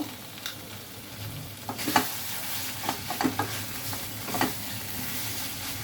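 Pointed gourd and small shrimp stir-fried in a pan, a steady sizzle broken by several clear scrapes and clacks of a spatula stirring against the pan, with no voices.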